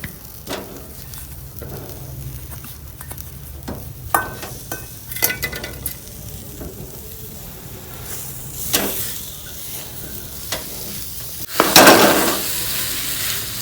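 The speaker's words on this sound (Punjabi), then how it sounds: "ਹੁਣ ਆਪਾਂ ਇਹ ਜਿਹੜਾ ਖੋਆ ਲਿਆ ਅੱਧਾ ਕਿਲੋ ਜੀ ਇਹਦੇ ਵਿੱਚ ਮਿਕਸ ਕਰ ਦਾਂਗੇ ਇਸ ਤਰ੍ਹਾਂ ਚੂਰ ਕੇ" Half a kilo of crumbled khoya stirred into hot roasted flour in a pan with the gas off, soft scraping strokes and faint sizzling, with a few sharper spoon knocks against the pan near the end.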